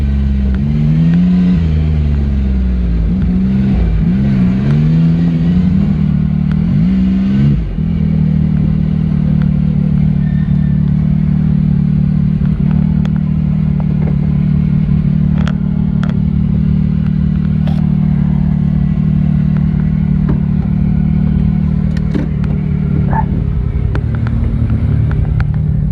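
A Polaris RZR XP Pro off-road vehicle engine drones steadily up close, with a few revving swells early on and then a sustained, even roar with faint clatter.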